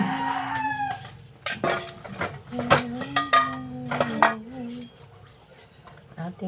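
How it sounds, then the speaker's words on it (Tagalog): Garlic cloves are crushed for tilapia adobo, giving a few sharp knocks and thuds spread across the moment, with a voice and farmyard animal calls in the background. "Ating pitpitin yung bawang"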